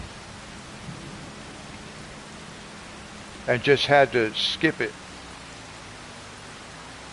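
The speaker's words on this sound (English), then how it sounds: "But this is the rain on this one said it only supposed to rain for like another hour." Steady rain hisses evenly in Farming Simulator 25 on the Riverbend Springs map, played on PS5. The soft, continuous downpour runs throughout, and a voice speaks a short phrase over it midway.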